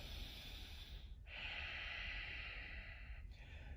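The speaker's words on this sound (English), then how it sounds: "Strong breath." Strong, forceful breathing during a yoga pose in a runners' workout: a steady, close, airy rush of breath that breaks briefly, then sustains for about two seconds before another short pause.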